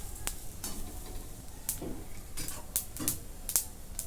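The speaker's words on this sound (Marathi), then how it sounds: "थोडंसं तेल सोडून घेते म्हणजे लवकर भाजलं जाईल आणि एक मिनटं ह्याला परतून घेते" Grated coconut sautéed in a little oil in a pressure cooker pan for a spicy chicken curry: a steady, close sizzle broken by several sharp scraping stir strokes and clinks of a utensil.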